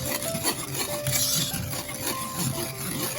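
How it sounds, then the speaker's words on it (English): A spoon scrapes and stirs through thick milk pie cream in a pot as butter melts in, with soft continuous mixing sounds and light metallic clinks, close up and with no talk. "I will add my butter. Keep on mixing until it dissolves."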